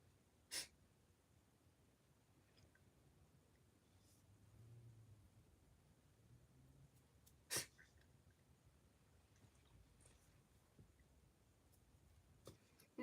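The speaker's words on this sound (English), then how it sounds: "you just had to go sneeze" A sneeze during a Phillies versus Giants baseball game broadcast comes as two brief, faint bursts several seconds apart over quiet ambient noise.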